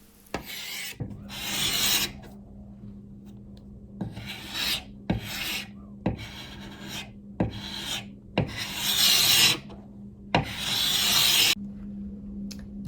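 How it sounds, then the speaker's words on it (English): Repeated rasping scrapes of a carbide scraper stripping old finish from a wooden dresser, about a dozen strokes in a steady rhythm, each a gritty pull followed by a brief pause, close and fairly loud. "I started with my carbide scraper, and it was a lot of fun because it came off quite easily."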